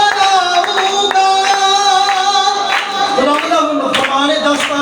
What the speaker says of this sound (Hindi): तालियों का साथ चाहिए मुझे।